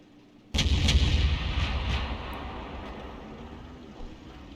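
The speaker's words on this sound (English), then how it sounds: "Not going to cover him from Arty though." Artillery fire in a tank video game: one sudden loud boom followed by a long rumbling decay that fades over several seconds, with no talking.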